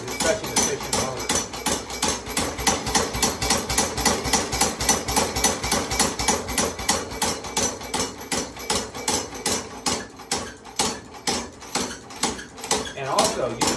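Updated drive motor on a DW212V machine runs steadily with a fast, even mechanical pulsing and clattering rhythm, loud and close, with a voice talking over it.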